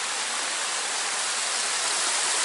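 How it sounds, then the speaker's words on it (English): Water cascading past hanging icicles on a cold night along the Appalachian Trail, a steady, dense rushing roar that holds constant throughout with no voices. "cascading water here."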